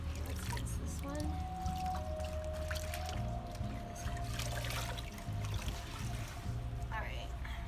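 Water trickles and pours as indigo shibori-dyed fabric is rinsed in a studio, a steady splashing wash running throughout with people talking over it.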